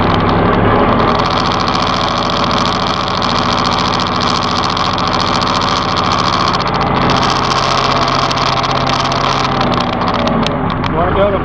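A Massey Ferguson 1734E gear-transmission compact tractor diesel engine runs steadily and loudly at a set speed, with a constant droning rumble and a slight change in tone near the end, and no talking over it.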